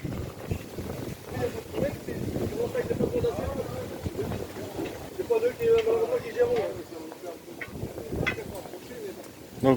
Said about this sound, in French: Oh, regardez-moi ça, il y a trop de vent.